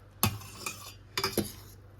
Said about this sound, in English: Stir it around with the fork